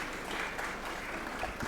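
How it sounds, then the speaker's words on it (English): Applause fills an indoor aviation conference hall at the close of a talk, a dense steady patter of clapping from the audience throughout. "A big round of applause to Laila"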